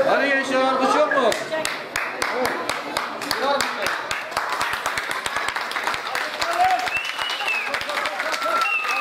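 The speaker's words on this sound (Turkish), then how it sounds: "Hadi gençler, alkış yok mu?" Guests at a Turkish henna night before a wedding clap in a dense, lively burst that carries on throughout, with voices talking over the clapping from the start.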